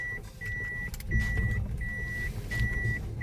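A Toyota Noah's engine runs at idle after an EGR-off, Euro 2 firmware flash, a steady low rumble with a faint repeating electronic beep layered on top.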